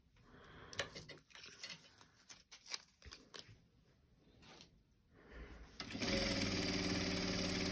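A sewing machine stitches a zigzag along the edge of fabric while a pouch is sewn: first scattered clicks and handling knocks, then a sustained loud whirring run of rapid stitching, close up.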